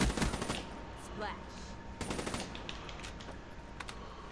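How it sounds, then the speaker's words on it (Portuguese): Gunfire from the shooter game Call of Duty: Black Ops 3 rings out as sharp bursts and single shots at varying distances, with rapid automatic fire early on and scattered cracks layered over game background noise. "Da onde veio esse tiro"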